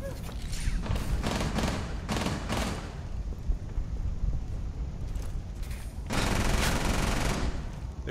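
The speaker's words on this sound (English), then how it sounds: "They're shooting at my shield." Bursts of rapid gunfire hammer against a held ballistic shield in a Rainbow Six Siege match on the Consulate map, loud clusters of shots in the first few seconds, a lull, then another heavy volley near the end.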